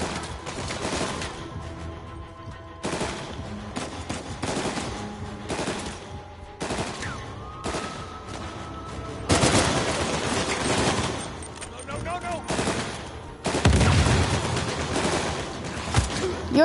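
Bursts of rapid automatic gunfire from the video game Uncharted 4: A Thief's End, loud sustained volleys separated by short gaps, with the heaviest bursts coming toward the end.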